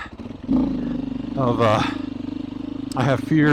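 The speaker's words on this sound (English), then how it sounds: "So when I go downhill like this, I'm happy to have some engine braking." A Beta 500 RR-S motorcycle engine rumbles and pulses at low revs, engine braking downhill on loose gravel, with a few brief bursts of louder revving and rattling.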